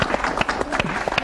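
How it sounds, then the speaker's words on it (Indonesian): Short burst of audience clapping at an Indonesian talk-show taping, crisp individual claps fairly close and loud, cut off after about a second. "Tepuk tangan semuanya."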